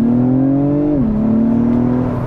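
A 2021 Acura TLX Type S engine and exhaust drone steadily while driving, the note dropping midway as it shifts, then holding a lower steady tone, loud and close.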